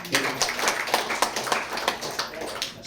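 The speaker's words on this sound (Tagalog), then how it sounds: "Palakpak po natin" A church congregation claps in a steady rhythm, with sharp regular beats from many hands and voices mixed in around them.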